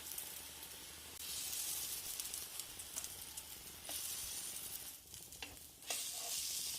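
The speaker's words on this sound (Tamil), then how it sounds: "ஒரு சைட் ஃப்ரை ஆயிடுச்சுன்னா திருப்பி போட்டுக்கோங்க." Eggplant frying in a pan, giving a soft, continuous sizzle with brief stirring and scraping touches, faint and close, with no voices.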